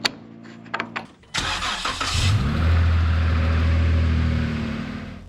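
A Jeep fitted with a hydro assist steering upgrade starts up, with clicks and handling noises first, then the engine catches and settles into a loud, close idle.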